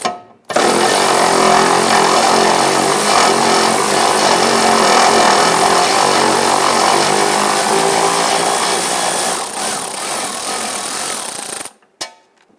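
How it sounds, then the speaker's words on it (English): A power tool runs continuously, loud and steady for about eleven seconds, loosening 14mm nuts on a fuel tank of a 2010-2013 Kia Soul, cutting off abruptly near the end. "We're going to use our socket and extension to go ahead and loosen and remove this."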